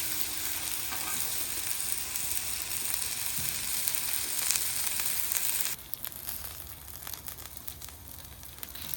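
Steaks sizzle steadily on a hot Blackstone griddle, a dense, loud frying hiss that holds throughout and drops a little in level near the end, with no talking.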